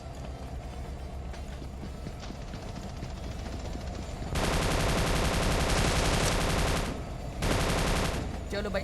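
Machine gun firing in the Scarfall 2.0 shooter on the Mumbai map, rapid bursts that swell into two loud sustained volleys, with a quieter stretch of gunfire and game noise beforehand.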